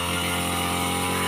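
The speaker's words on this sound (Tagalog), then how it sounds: "grass cutter siya dun sa tabi lang" A grass cutter's engine drones steadily and loudly nearby on a farm, a continuous buzzing whine with no pauses.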